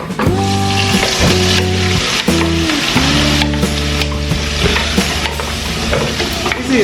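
Egusi soup ingredients poured into a hot pot and stirred, with steady loud sizzling and frying plus repeated scraping stirs, no talking.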